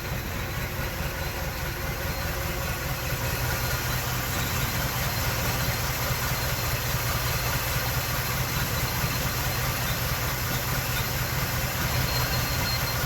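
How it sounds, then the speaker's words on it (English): A car engine idles steadily after an ignition timing adjustment, giving a continuous, even, close rumble with a low pulsing throb and no speech over it. "You notice how that pulled the idle up nice?"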